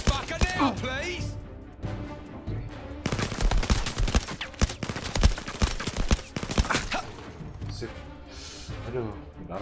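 Rapid bursts of gunfire in the VR shooter Blood and Truth, sharp cracks firing in dense volleys over busy game sound, with a voice talking at moments.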